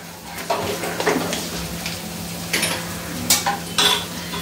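Cashews and onions frying together in one batch of oil for biryani at a village fair, a soft steady sizzle broken by scraping stirs and a few sharp clinks of a utensil against the pan.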